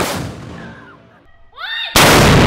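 An explosive charge detonates at a K9 training facility, a sudden loud boom that cuts in after a quiet stretch with a rising whine, its broadband roar holding at full level to the end.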